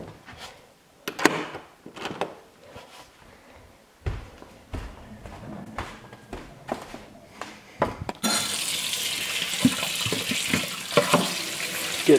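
Water runs from a tap on a farm raising heritage meat birds on pasture, with splashing and knocking as something gets washed; a steady rush of water takes over in the last few seconds.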